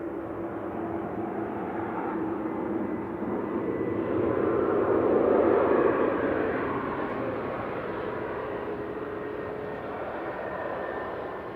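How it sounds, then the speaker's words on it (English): A Ryanair Boeing 737 MAX 8 from Cork crosses the runway threshold on landing at Manchester Airport, a steady broadband jet roar that swells to a peak midway and then eases off, with no talk. "Coming over the threshold is Ryanair from Cork, flight 768, a MAX 8 EI-IGL"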